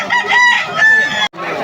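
A Sweater-line gamecock for sale at a busy gamefowl market crows once, loud and close, with a brief break before the crow trails off.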